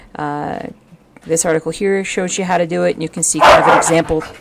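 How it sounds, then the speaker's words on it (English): Dogs barking in a home, a short burst of yips and barks at the start, then more barking mixed in under someone talking close to the microphone. "Sorry about the dogs barking there."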